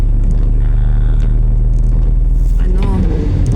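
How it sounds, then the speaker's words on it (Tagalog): An old, no-longer-new car being driven in the rain makes a loud, steady low engine rumble and drone throughout, with rattly road noise and voices near the end. "pasensya na kayo sa sasakyan. Kasi hindi naman to bago. Kaya naririnig niyo yung mga ingay-ingay na yan."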